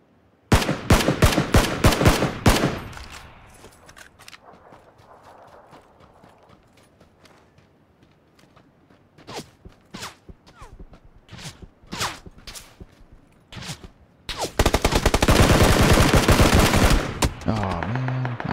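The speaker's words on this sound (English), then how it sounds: "Where's this guy shooting from?" Gunfire in PUBG: loud rapid automatic bursts open the scene, then scattered single shots and footsteps follow, and a long sustained burst comes near the end, with brief speech at times.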